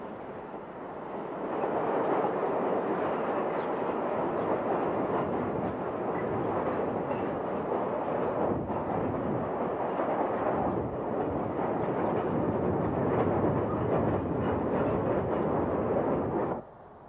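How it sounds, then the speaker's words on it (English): Class 37/9 diesel locomotive with a Mirrlees or Ruston engine hauling a steel coil freight train in South Wales, a loud, steady engine roar and rumble that holds for about fifteen seconds, then cuts off. "These coil trains regularly utilise the Merleys and Ruston powered Class 37-9 variant."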